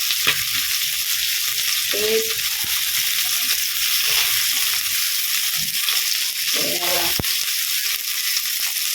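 Fish frying in a little oil for cat food, a steady close sizzle and crackle throughout, with occasional spatula scrapes and stirring clinks.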